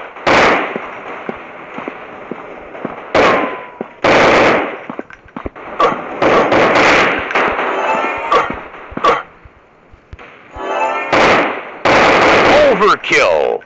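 Rapid bursts of automatic gunfire from a realistic commando FPS shooting game, loud and close, alternating between sustained volleys and short pauses, with brief game voice callouts between.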